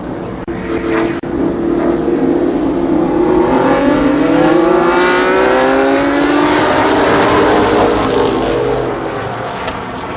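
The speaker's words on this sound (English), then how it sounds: "10 cars, 10 laps. The ARCA Hooters Cup first heat race." ARCA stock cars roar past in a ten-car heat race at Columbus Motor Speedway, a loud, sustained engine drone with rising and falling pitch as the pack sweeps by, fading slightly at the end.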